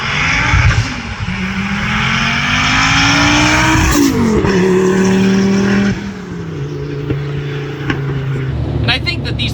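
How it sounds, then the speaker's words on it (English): Turbocharged five-cylinder engine in a Porsche-swapped VW Passat revving and accelerating hard, pitch climbing through gears with a shift near the middle, loud and close with tire noise and brief voices over it. "I'm a huge fan of 5-cylinders, and they're kind of knockoff Viper sound, or half of a Lamborghini sound"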